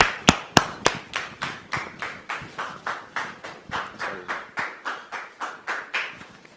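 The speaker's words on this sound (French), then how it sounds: "Sous vos applaudissements" A studio audience on a French talk show claps in steady unison, about three sharp claps per second, evenly paced and fairly close, with no talk.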